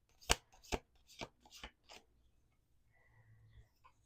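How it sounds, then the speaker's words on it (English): Several crisp riffling bursts of a tarot card deck being shuffled, sharp and close, followed by quieter handling noises. "That was two shuffles, but I'm going to do one more shuffle."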